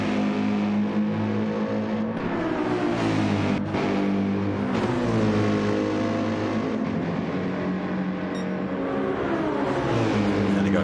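Racing cars in a multi-class sim racing league at Monza run side by side along the back straight toward Parabolica, their engines a loud, sustained whine that rises and shifts in pitch as they accelerate.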